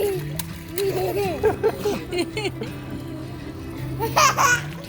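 A child splashes and paddles in water nearby, with irregular sloshing bursts mixed with a child's laughter and babbling and an adult talking.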